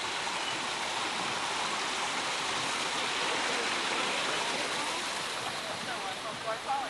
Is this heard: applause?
no